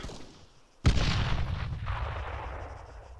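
Enemy gunfire in the Arma 3 military shooter game: one sudden loud blast followed by a long rumbling roar that slowly fades, with no talking.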